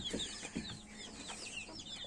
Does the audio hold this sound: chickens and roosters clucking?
yes